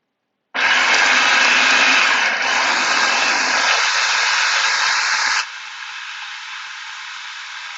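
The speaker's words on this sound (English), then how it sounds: "I'm going to add some olive oil as it's blending." A blender whirs loudly at a steady pitch while blending homemade hummus with olive oil drizzled in, then drops abruptly to a lower, quieter hum after several seconds, heard alone without speech.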